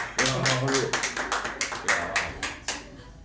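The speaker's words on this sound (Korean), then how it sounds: "박수만 터지네요" A handful of sharp, irregular claps ring out close by during a Korean political discussion, a short scattered burst of clapping rather than a full ovation, with a voice speaking alongside.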